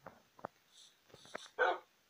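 A dog gives a few scattered short barks and yips close by, ending in one louder, fuller bark after brief quiet gaps.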